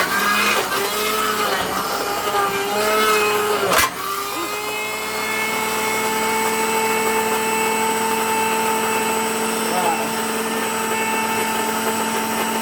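A blender whirs steadily, loud and close, as it churns frozen banana with milk into ice cream, holding a constant motor drone with one brief jolt partway through.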